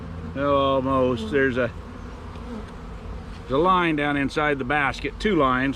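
Honey bees from a Mann Lake order hum steadily as they are scooped into a basket, while someone talks over the buzzing at close range.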